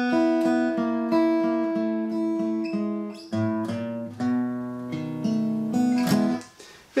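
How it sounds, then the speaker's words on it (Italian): A clean electric guitar plays a bluesy turnaround phrase for a 12-bar blues, repeated plucked notes descending and resolving, ending with a final strummed chord. "Oggi volevo suonare e farti vedere un turnaround che possiamo applicare in una forma di 12 misure blues."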